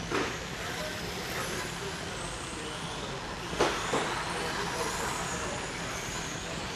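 Race cars at a USVTA nationals round sweep past with a broad engine roar and a sharp passing burst midway, while an announcer's voice talks over the track noise.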